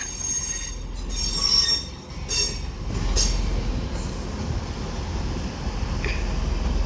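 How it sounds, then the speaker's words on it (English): A Class 185 TransPennine Express train from Hull pulls into platform 1 at Manchester Piccadilly, its wheels squealing loudly in repeated bursts over a steady low rumble of the train rolling in nearby. "185113 is on this 185 with the 1440 Transpennine Express service from Hull, terminated in onto platform 1"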